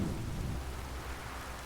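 Steady heavy rain and a rolling rumble of thunder from a storm in Witcher 3, loud and continuous with the deep roll strongest at the start.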